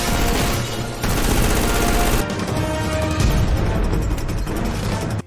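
Rapid gunfire crackles through a loud, dense action-movie scene, with shots bursting over a thick score and effects, the intensity dipping briefly around the second mark before driving on to a sudden stop.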